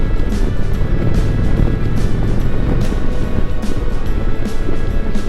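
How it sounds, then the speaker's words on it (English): Heavy, constant wind roar buffets the microphone while riding an Indian Challenger motorcycle at speed, loud and continuous throughout with no clear talk above it. "I hope you can hear me with the wind."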